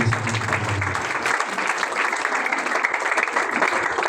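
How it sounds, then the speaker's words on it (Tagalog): A church congregation applauds together, a sustained dense clapping across a hall, after a low voice fades out at the start. "palakpakan po natin ang Diyos sa Diyos"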